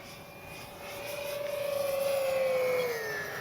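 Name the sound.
RC Avios Twin Otter model plane engine on speed run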